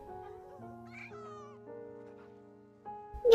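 A cat meows a few times over soft background music. The cries are faint and drawn out, and a brief louder sound comes at the end.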